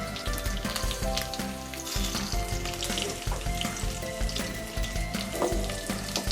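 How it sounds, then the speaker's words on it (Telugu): Cumin, mustard seeds and dried red chillies frying in oil on low heat for a bitter gourd curry: a dense, crackling sizzle with popping bursts, mixed with steady tonal background sounds, no talking. "ఇవన్నీ వేసుకుని సిమ్లో వేయించుకుందాం"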